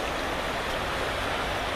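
A river flows, a broad, steady rush of water that is loud and continuous throughout, with no voices over it.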